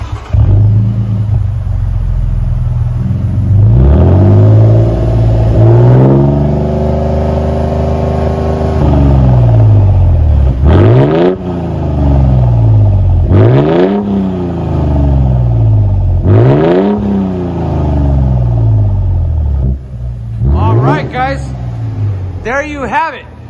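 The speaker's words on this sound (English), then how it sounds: "How does this thing sound with the V6 twin turbo?" A 2023 Toyota Tundra with a 3.5L twin-turbo V6 and Black Widow exhaust revs repeatedly, each blip rising and falling over a steady idle, loud and close, with a voice talking over parts.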